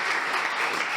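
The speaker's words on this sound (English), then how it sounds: "Please give a round of applause for Professor Sean Tweedy" A crowd gives a dense, continuous round of applause for panel speakers at a health talk, steady and full throughout with no pauses.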